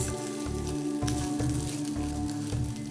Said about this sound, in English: that your rice is well coated with the oil. Keep stirring.